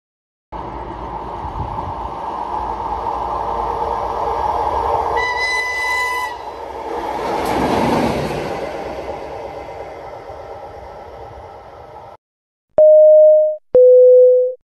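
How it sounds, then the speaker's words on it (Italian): A train passes through an Italian station at Anzola Emilia on platform 1, a sustained roaring rush that swells and fades. Two loud, long horn blasts follow near the end. "Treno in transito al binario 1"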